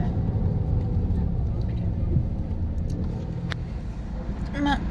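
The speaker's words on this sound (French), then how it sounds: "on entend les voitures" Steady low traffic rumble from road vehicles outside, continuous and moderately loud with no breaks, a faint higher whine near the end.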